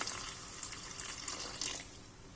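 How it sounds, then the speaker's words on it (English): A faint, thin stream of water pours into a pan of spicy egg curry gravy with coconut milk, a soft continuous trickle with a few small splashes, alone and quiet. "I'll just add in a bit of water to make the gravy."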